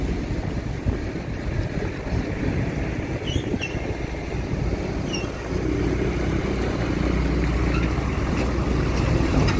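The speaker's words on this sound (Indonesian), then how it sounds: "Ini suasana dari pelabuhan Sunda Kelapa" Harbour ambience at Sunda Kelapa with boats: a steady low rumble of engines and wind, carrying a few faint distant clanks, and growing a little louder toward the end.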